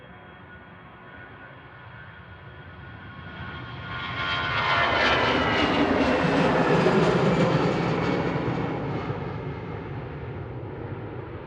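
EasyJet airliner jet engines run up for takeoff at Manchester Airport, a distant roar that swells to a loud broad rumble and hiss before easing slightly, heard alone.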